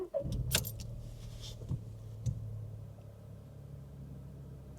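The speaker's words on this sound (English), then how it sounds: "we're going to start the car up." A Seat Arona's engine cranks and catches after a key jangle, then settles into a steady low idle rumble, close and continuous with no talk.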